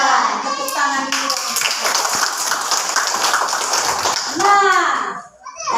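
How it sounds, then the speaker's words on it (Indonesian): A classroom of children clapping hands together, a dense burst of rapid claps in the middle with children's voices chattering before and after. "Tepuk tangan dulu"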